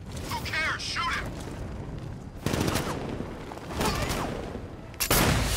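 Enemies fire guns in Batman Arkham Knight, with sustained bursts of automatic fire and sharp gunshots in waves at fairly close range. Voices and game effects are mixed in.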